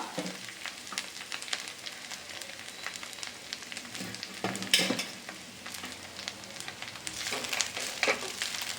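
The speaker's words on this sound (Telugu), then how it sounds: "ఆయిల్ ఈ కొత్తిమీర వేసి వేయించుకుందాం" Fresh coriander leaves sizzle and crackle in hot oil for a coriander preserve pickle, a steady frying hiss with occasional sharper pops and brief stirring scrapes near the end, moderately close and with no talking.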